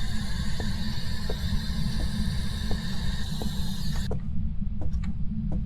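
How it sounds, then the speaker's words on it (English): A door in the ghost-hunting game Phasmophobia creaks and clicks steadily over a constant mechanical drone, with a few sharper clicks after the drone cuts out. "I'm pretty sure I just heard a door"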